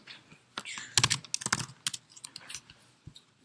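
Rapid keyboard typing, a flurry of crisp key clicks in uneven bursts, close and fairly clear, with no voices.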